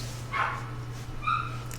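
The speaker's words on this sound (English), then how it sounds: "Sorry about the dogs outside," Dogs barking outdoors, two short yipping barks about a second apart, moderately distant, over a steady low electrical hum.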